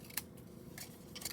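Scissors snip paper tabs at an angle during card making, with about three quick, faint, close cuts spread over a quiet moment.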